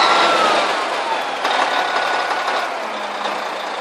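A loud Hyundai 25-ton truck engine runs steadily close by, a continuous droning rumble with a faint high tone over it.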